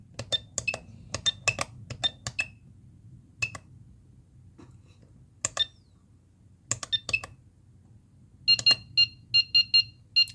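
An ESP32-based timer device gives short electronic beeps and clicks, scattered single chirps, then a quick rhythmic run of beeps near the end, close and crisp over a low hum.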